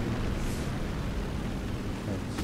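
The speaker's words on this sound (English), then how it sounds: "And explosion." A plane explodes in a flight combat video game, fighters like the FW190 and F4U Corsair, heard as a sustained roaring, noisy blast that stays loud and even across the whole moment.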